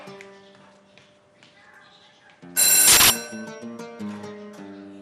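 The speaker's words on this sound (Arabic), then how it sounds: "صار لي زمان عم رن الجرس" A doorbell rings once inside a home as a loud, bright burst lasting about half a second, framed by quiet background music before and after.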